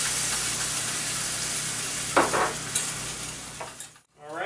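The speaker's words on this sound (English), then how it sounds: "I'm going to whisk into this blue cheese mixture about 2 to 3 tablespoons of" A whisk stirs heavy cream into a Gorgonzola blue cheese sauce in a hot pan, with a low sizzle under rhythmic scraping strokes and a few clinks against the pan before it falls briefly quiet.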